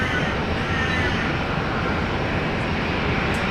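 A jet airliner rolling for takeoff on runway 19 left at Brisbane Airport: a steady, broad engine roar holds at an even loud level throughout, with no break or rise.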